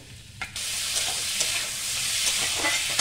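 Ginger-garlic paste fries in a pan for Crispy chilli baby corn, giving a bright, steady sizzle that swells after a brief clatter at the start, close and alone without speech.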